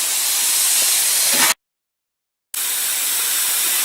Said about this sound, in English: we're going to flip this bumper over and we're going to finish these welds